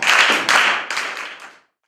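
A group claps together in a brief burst of close, lively applause that fades out after about a second and a half.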